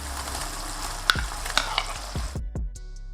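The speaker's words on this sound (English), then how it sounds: "Let this cook on high heat for half a minute." Chicken sizzles on high heat in a pan with oil, marinade and a splash of water, a dense close hiss with a few clinks, then the frying cuts out and several thuds and taps follow, no talking.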